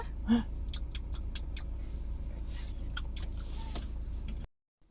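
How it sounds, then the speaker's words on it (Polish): A small child munching cookies at home: soft crunchy chewing and biting clicks, close and fairly quiet, with one brief louder squeak near the start, then silence at the end. "je ciasteczka"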